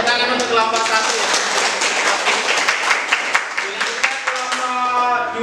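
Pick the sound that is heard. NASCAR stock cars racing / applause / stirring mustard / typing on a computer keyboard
applause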